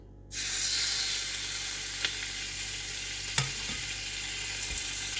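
Chicken pieces hit a hot pot for a steam roast and set off an abrupt, loud, steady sizzle, with a few small clicks and taps as they are arranged.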